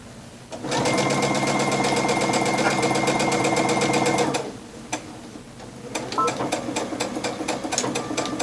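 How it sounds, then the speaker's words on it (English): A sewing machine stitches a fabric face mask, running in a loud, fast, even mechanical whir for several seconds, pausing, then starting again in a short burst of stitching. "I'm going to stop at my line right here, and then I am going to back stitch it"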